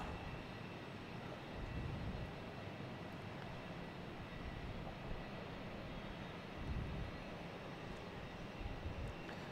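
A Southwest Airlines jet airliner lining up on a Boston Logan runway gives off a faint, distant, steady engine rumble with a thin whine, continuous and unbroken.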